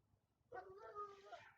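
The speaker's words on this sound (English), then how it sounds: "hearing dog bark again and other dogs" A dog gives a single drawn-out bark or yelping whine, faint and somewhat distant, after a moment of near silence.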